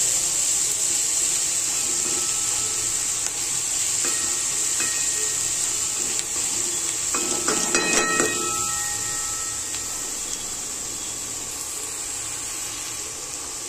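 Chopped onions fry in hot oil for a tomato chutney, giving a steady close sizzling hiss with a brief burst of crackling partway through before it settles back to an even sizzle.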